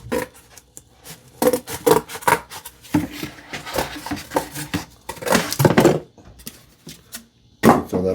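A cardboard box is sawn in half by hand while axes are being packed, giving rough, rasping cutting strokes in uneven bursts with short pauses between them, close and fairly loud.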